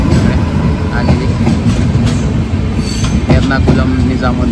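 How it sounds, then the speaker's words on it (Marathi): The Mangala Lakshadweep Express rushes past on the adjacent line with a loud, continuous roar of wheels and rattling carriages. Rhythmic clicks and faint squeals break through the rumble. "मंगला लक्षद्वीप एक्सप्रेस आहे आलेली"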